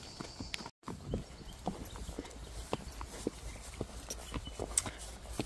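A horse trots outdoors, its hooves making irregular, moderately faint clip-clops over a quiet background, with no one speaking.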